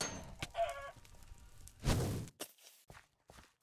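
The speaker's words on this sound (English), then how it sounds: "I'm just trying to kill a chicken" Minecraft chicken clucks in short bursts amid game sound effects and footstep-like taps, brief and fairly close.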